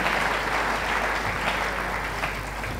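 A steady wash of applause from a church congregation during a French-language sermon, many hands clapping in a dense, continuous roar that fades slightly toward the end.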